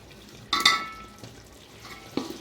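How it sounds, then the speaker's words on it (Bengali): Chopped tomatoes go into a spice paste frying in oil and are stirred in the pan. There are a few brief stirring clatters and soft sizzles with quiet gaps between them, and no speech. "এটাকে ভালো করে নাড়াচাড়া করে নিয়ে একটু ঢাকনা দিয়ে ঢেকে রাখবো।"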